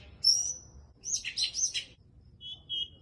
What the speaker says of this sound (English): Actually fucking amazing how many noises this bird makes.